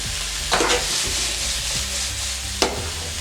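Vegetables stir-frying in a hot pan with liquid aminos splashed in, a steady close sizzle with a couple of sharp spatula scrapes against the pan.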